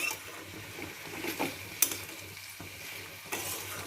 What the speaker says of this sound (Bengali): সমস্ত গুঁড়ো মশলাগুলোকে এখন আমি ভালো করে মিশিয়ে নেব আলুর সাথে।